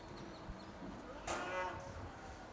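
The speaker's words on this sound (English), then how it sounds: "my calves are working as better than my cows do almost here" Cattle being handled on horseback, with cows and calves in the herd; a single drawn-out moo rises midway, fairly faint and distant over quiet outdoor background.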